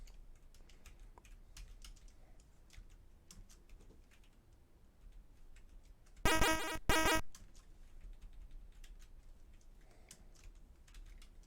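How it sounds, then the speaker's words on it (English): A computer keyboard clatters in a brief burst of quick typing, fairly close, during music-making in Protracker, with faint scattered key taps before and after. "I apologize for all the keyboard noises as well."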